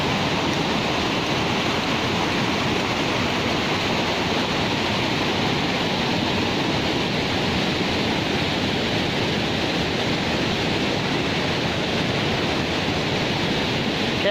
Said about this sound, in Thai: นี่มันธรรมชาติของน้ำตกที่แข้งอุดมใจเนาะน้ำกัดยอระปา